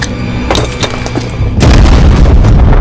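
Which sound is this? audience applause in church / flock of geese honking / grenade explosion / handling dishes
grenade explosion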